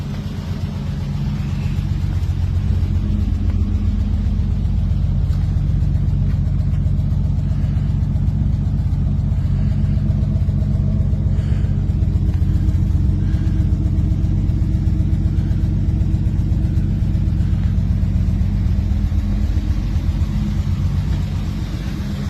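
A 1975 Plymouth Duster engine runs steadily, a deep constant rumble with a fast throbbing pulse, close and loud and unchanging for the whole stretch with no talk.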